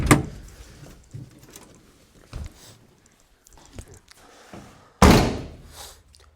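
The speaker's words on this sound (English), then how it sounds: "Still can't believe how good these doors open and shut." Doors on a 1972 Plymouth Duster are worked open and shut, with soft clunks and latch knocks followed by one loud, close slam near the end.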